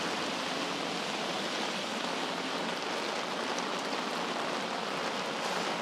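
Heavy rain pours steadily on a street in Geylang, Singapore, near a construction site, forming a dense, even hiss that stays loud and constant throughout with no voices.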